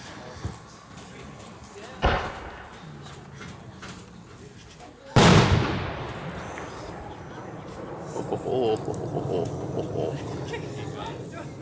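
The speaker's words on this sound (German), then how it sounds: "So, in 49 auch Silberregen, 125 mm. Da wird aber nur ein Stück geschossen" A Pyrounion Silberregen 125 mm firework shell fired at an outdoor demonstration: a sharp launch thump early on, then a loud single burst followed by a long fading crackle and rumble, with people talking nearby.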